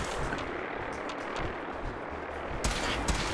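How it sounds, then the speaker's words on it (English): Enemy gunfire in Fallout 4 rattles as a dense, noisy barrage, with a sharper, louder burst of shots near the end and no talking. "Oh my God, stop shooting at me."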